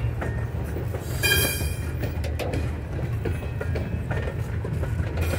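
A freight train rumbles past with a steady low roar and rail clatter, a brief high wheel squeal rising near the start, loud and close throughout.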